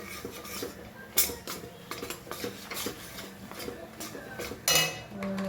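A spoon stirs chickpea flour as it roasts in oil in a pan, giving repeated scraping and clinking strokes against the metal, with a couple of louder knocks.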